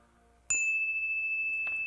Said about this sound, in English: As the bell fades into the distance